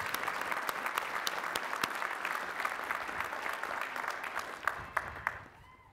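Master's degree recipients at the Lehigh University spring commencement receive sustained, even applause from a large crowd, which tapers off at the end.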